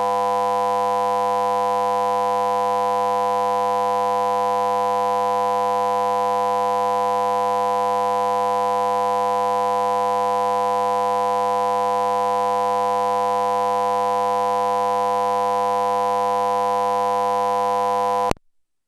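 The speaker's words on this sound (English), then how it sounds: "it appears the noise, the alarm, the buzzing has stopped" A continuous electronic buzzing alarm drones at a constant pitch and loudness inside a public hearing room for about eighteen seconds, then cuts off sharply, with no one speaking over it.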